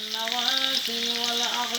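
Onions sizzling steadily in hot oil in a pan while being stirred, a close, bright frying hiss with no talk.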